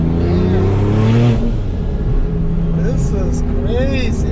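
A 1000-horsepower Porsche 911 997 accelerates hard with a loud, rising engine roar that dips once, while people talk over the engine noise inside the car.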